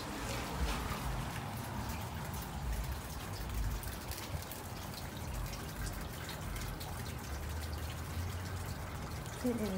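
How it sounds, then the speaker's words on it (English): Steady rain falls outdoors on a rainy day, a constant close hiss and patter of drops with faint water splashing throughout. "It is so rainy today."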